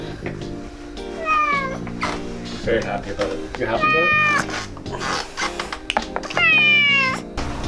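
A kitten meows several times in rising, drawn-out cries while people talk and murmur nearby.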